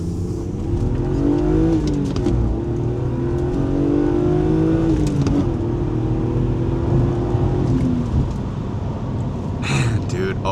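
A stock BMW E36 M3 engine drones and rises in pitch as the car accelerates through the gears, heard from inside the cabin, loud and continuous; a person talks over it.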